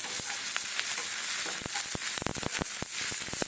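Butter sizzles and fries steadily in a pan with salt added, a dense crackling hiss broken by sharp pops and spatters, close and continuous with no talking, while button mushrooms are being cooked.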